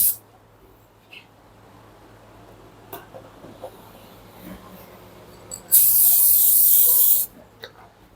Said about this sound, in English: I'm gonna apply varnish onto it.